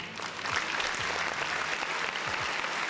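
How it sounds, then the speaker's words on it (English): Steady applause from a crowd fills the whole stretch, dense and even clapping with a few low thumps beneath it and no talking. "round of applause to my boy Barry"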